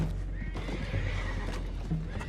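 Horses neigh and whinny close by in the video game Red Dead Redemption 2, with hoof clopping and shuffling underneath in a short, busy burst.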